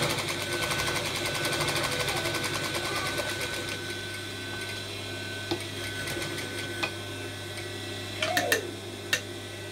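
A sewing machine stitches the sleeve and welts of a butterfly sleeve dress, a fast steady mechanical ticking and hum running continuously, then a few sharp clicks near the end.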